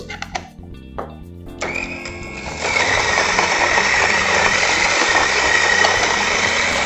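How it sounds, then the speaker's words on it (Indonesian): A coffee grinder grinding beans fine for espresso starts after a few light clicks and settles into a loud, steady, close-up whirring grind that continues to the end without a break. "Oke, kita grind dulu."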